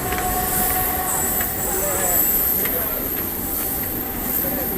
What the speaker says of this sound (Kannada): ನಾವು ಬಂದ ಟ್ರೈನ್ ಇದೆ ನೋಡ್ರಿ.